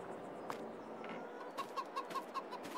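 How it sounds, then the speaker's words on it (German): Chickens in a coop within the Farming Simulator 22 game give soft, repeated clucks and coos at a moderate distance. The calls come in short pulses, a few of them sharper, over a steady low ambient murmur. "das ist ein ganzer Hühnerstall"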